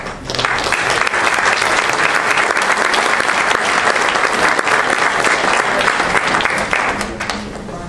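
Audience at a school board meeting gives a sustained round of applause for a National Merit Scholar, dense and steady clapping filling the room for several seconds before easing slightly at the end.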